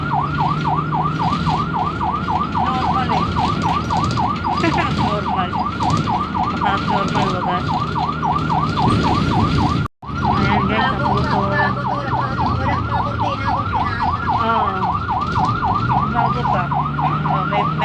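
An ambulance siren wails loudly and continuously nearby, its rapid rising-and-falling tone cycling over engine rumble, cut off briefly midway before resuming.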